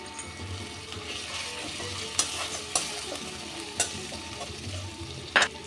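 Spices and tomato stir-fried in a pan, a steady close sizzle with scraping stirs and a few sharp utensil clacks against the pan, no voices.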